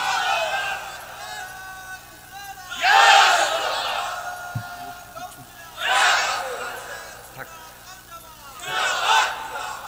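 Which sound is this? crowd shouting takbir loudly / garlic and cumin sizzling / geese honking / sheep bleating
crowd shouting takbir loudly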